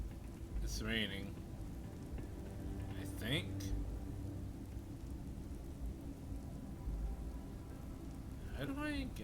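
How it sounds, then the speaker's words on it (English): Steady rain with low thunder rumbling throughout a stormy scene in the video game Starfield, a continuous wash of noise under brief bits of speech. "It's raining."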